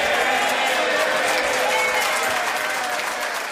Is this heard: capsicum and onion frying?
no